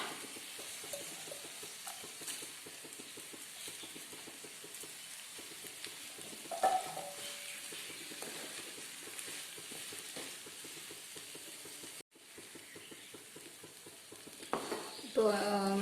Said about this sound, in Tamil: அரிசியை சேர்த்து ஒரு 2 நிமிஷம் வதக்கி விடுங்க.